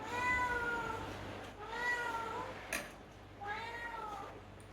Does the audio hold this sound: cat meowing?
yes